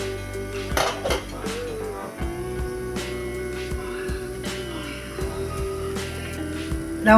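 Kuzhi paniyaram flipped in a metal pan, with bright metallic clinks and scrapes of a utensil against the pan, close and intermittent.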